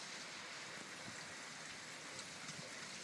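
Heavy rain pours steadily as a dense, even hiss with no break or voices, close by and fairly quiet overall.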